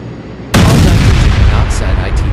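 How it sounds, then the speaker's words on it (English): In a turboprop flight simulator game, an airplane slams into a semi-truck. After half a second of near-quiet, a loud, dense crash bursts in and keeps roaring and rumbling to the end. "Oh crap, we hit the semi-truck"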